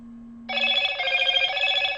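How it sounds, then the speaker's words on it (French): A telephone rings with a bright electronic trill that starts abruptly after a low hum and keeps ringing steadily, loud and close, with no talking. "je vais répondre au téléphone"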